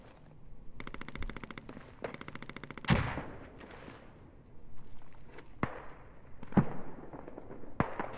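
Gunfire fills a military video game battle: rapid bursts of automatic fire alternate with sharp single shots and heavier booming reports, some near and some more distant, with no voices in between.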